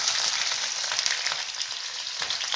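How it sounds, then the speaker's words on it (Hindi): Pieces of jackfruit fry in hot mustard oil in a kadai, a dense, continuous close-up sizzle with bright crackling spatter and no voices. "तेल गर्म हो चुका है, अब इसमें हम कटहल डाल देंगे।"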